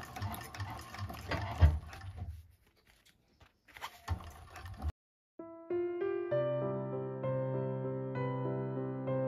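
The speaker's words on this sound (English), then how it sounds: "Hold your threads, back stitch, and sew it up." A 1341 cylinder arm sewing machine stitches a bag, including a backstitch, in uneven bursts of rapid needle clatter during the first half. Then it drops out and tonal music carries on alone.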